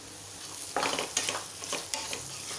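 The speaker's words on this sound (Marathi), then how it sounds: "लगेच कैरी घालूया." Raw mango pieces drop into hot oil with red chilli powder and get stirred, producing a fairly quiet sizzle and several short clinks and scrapes of a spoon against the pan.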